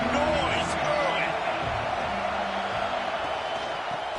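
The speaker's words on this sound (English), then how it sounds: "This crowd bringing the energy and noise early." Stadium crowd at a Notre Dame vs NC State college football game, a loud broad wash of cheering and roar that holds steady throughout, with a commentator speaking over it.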